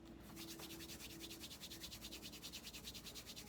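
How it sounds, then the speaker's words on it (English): Palms rubbed briskly together in a fast, steady back-and-forth rhythm, a close and dry swishing that repeats evenly throughout with no voices. "we're going to rub your hands vigorously together"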